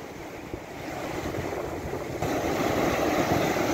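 Ocean waves on a quiet beach at Noppharat Thara, Krabi, Thailand, a steady broad wash of surf with wind noise on the microphone, growing slightly louder midway, no voices.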